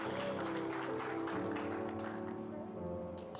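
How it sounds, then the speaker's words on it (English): A crowd at a fursuit musical cheers and applauds in a dense, continuous roar of voices and clapping that fills the whole moment at a moderate, slightly distant level. "I like everyone's cheering because he got booted off."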